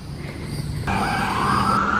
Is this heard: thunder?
no